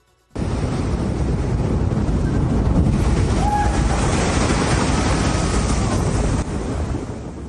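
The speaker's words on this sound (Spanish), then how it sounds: "Veamos imágenes de las olas en la costa de Jalisco." Ocean surf pounds the Jalisco coast during Hurricane Priscila, a loud continuous roar of crashing waves mixed with strong wind buffeting the microphone.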